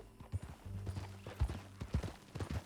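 Hoofbeats of a horse in Red Dead Redemption 2 clop in an uneven trotting rhythm, close and distinct over a low droning background.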